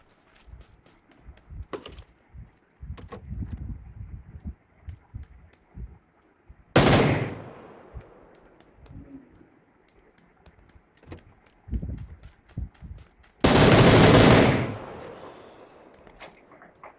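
Gunfire in the PC shooter PUBG PC Lite: scattered single shots and short bursts, with two long, loud sustained volleys of automatic fire, between quieter footstep-like thuds.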